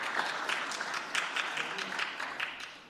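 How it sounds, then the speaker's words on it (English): Members applaud in a parliamentary house sitting after a maiden speech, a fairly quiet, distant patter of hand claps with a loose, uneven pulse that continues steadily throughout. "Can you all clap hands"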